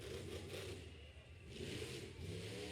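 A monster truck engine, the Velociraptor, revs at an independent monster truck show in Miami, Oklahoma, a continuous loud roar with rising and falling surges, heard distantly over crowd and arena noise.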